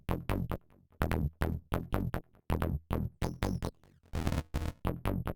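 Beat run through Ableton's Redux Vintage Sampler preset at full amount, giving choppy, gritty bit-crushed hits in a quick irregular pattern with a harsh buzzy burst near the end, close and dry.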